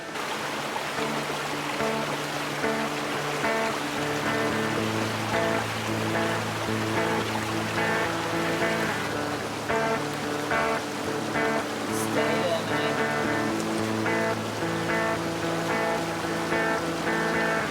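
A creek tumbles and gurgles along in Australian bush, a steady, close rush of flowing water that fills the whole stretch without a break.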